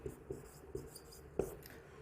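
Chalk or marker writing on a classroom board during a lesson, with a few faint, soft scratches and taps spaced irregularly and one slightly sharper stroke, quiet and close, with no talking.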